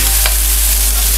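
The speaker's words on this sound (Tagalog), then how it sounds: "Dahil mainit naman na siya, magigisa na ako ng sibuyas." Julienned onion sautéing in hot oil for pancit canton guisado, a loud steady hiss and sizzle heard close up with light stirring.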